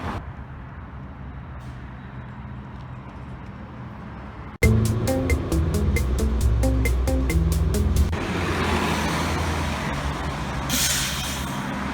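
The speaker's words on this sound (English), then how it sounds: "Let's take the 9 bus and save some time" Aboard a city bus in Grand Rapids, a loud hiss and a clatter break a quiet stretch of engine hum, then a rhythmic ticking and rumble play while the bus moves through traffic.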